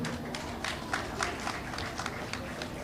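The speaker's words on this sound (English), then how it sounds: "Please let us give our farmers a round of applause for what they have been doing" A crowd at an agricultural show applauds the farmers. The claps come through as faint, distant and fairly rhythmic, with a low murmur of the gathering underneath.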